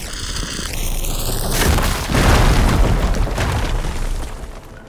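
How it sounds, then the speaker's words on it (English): A fire beam is blown up in Horizon Forbidden West, producing a heavy, rumbling explosion that follows a short synthetic tone and rolls on with dense crackling debris for several seconds. "Should be able to blow up that fire beam."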